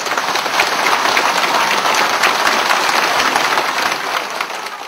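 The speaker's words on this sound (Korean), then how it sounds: "다시 한번 여러분 박수 환영해 주십시오" Audience applause welcoming former Seoul mayor Lee Myung-bak at a Korean political rally, a dense, steady wash of clapping from a large crowd that holds loud throughout and eases slightly at the end.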